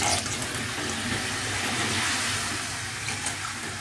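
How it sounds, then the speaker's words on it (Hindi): Water is poured from a glass into a pot of mutton and potato curry, making a steady gushing, splashing stream that stays fairly loud and even for several seconds. "इस स्टेज पे ना मैं इसमें डेढ़ से दो गिलास पानी डालूँगी।"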